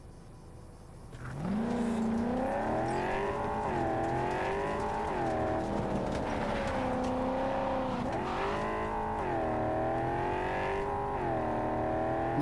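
A car driven in Cyberpunk 2077 revs up and cruises, its engine whine climbing in pitch and dipping with gear shifts, loud and steady for the whole stretch.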